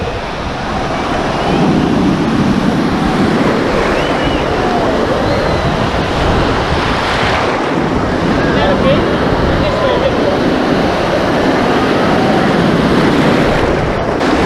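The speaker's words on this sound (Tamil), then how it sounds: "சிட்னி வந்தீங்கன்னா இந்த மாதிரி நிறைய பீச்சஸ் இருக்கு" Surf rolling in at a Sydney beach, a steady broadband wash of breaking waves mixed with wind buffeting the microphone, loud and continuous throughout.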